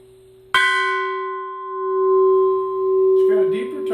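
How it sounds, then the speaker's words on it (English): A metal cylinder bell is struck once near its bottom edge and rings out with a deep, steady tone that sustains for several seconds. Another faint clatter comes near the end. "Now we're going to hit the bottom."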